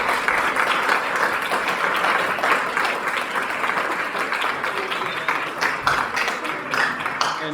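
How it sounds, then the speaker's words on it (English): Wedding guests applaud the bride's father at a reception, a sustained crowd clapping that starts strong and thins toward individual claps, with some chatter mixed in. "round of applause for Katrina's dad"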